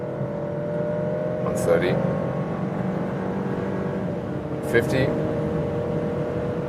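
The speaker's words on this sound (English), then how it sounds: "You feel that the engine is working really hard indeed." Engine of a facelifted Alfa Romeo Stelvio in dynamic mode accelerating hard on the German Autobahn, a steady droning cabin hum with brief rising whines, under someone talking.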